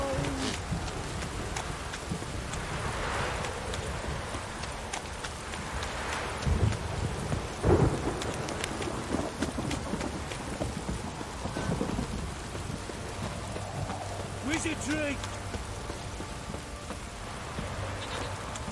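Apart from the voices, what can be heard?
heavy rain and thunder in The Witcher 3 video game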